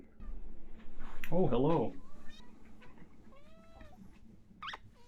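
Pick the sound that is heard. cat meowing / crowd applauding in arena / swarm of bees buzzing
cat meowing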